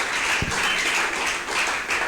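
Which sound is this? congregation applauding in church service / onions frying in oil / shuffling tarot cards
congregation applauding in church service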